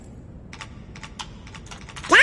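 A password being typed on a computer keyboard in the Kingdom Hearts video game, with a quick run of light key clicks in short bursts, ending in a louder game sound.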